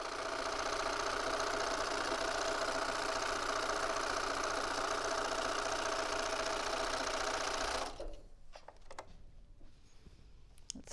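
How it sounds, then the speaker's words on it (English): A sewing machine runs steadily while stitching a straight filler strip onto a quilt, with a continuous whirring hum for several seconds. It stops abruptly, leaving faint handling rustles and clicks. "Sew my filler on."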